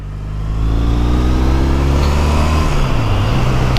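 A Triumph Bonneville motorcycle engine revs up close and loud, climbing quickly from idle into a strong, smooth rising roar, then settling back slightly at the end.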